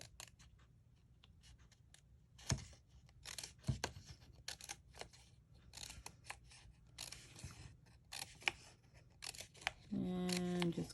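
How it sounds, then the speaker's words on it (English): Scissors snip fringe into paper for a heart-shaped gift box, many quick close cuts in an uneven rhythm, followed by a short steady hum at the end. "you're going to have to cut yourself some little tiny, like little fringe up to that score line."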